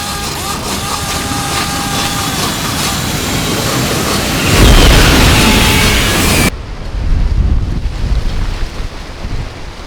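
Steady wind buffets the microphone, rising into a louder gust midway, with a rushing outdoor ambience throughout.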